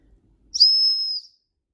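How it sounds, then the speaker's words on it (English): A single shrill, steady blast from a whistle built into a tactical pen, lasting about half a second, clear and close, with silence before and after. "I've got a tactical pen, and this pen has a whistle"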